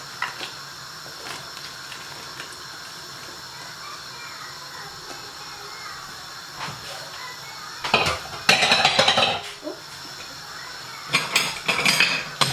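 Carrot and pumpkin pieces tipped into a pot for seasoned rice, landing with a few loud clattering knocks against the metal over a quiet kitchen background.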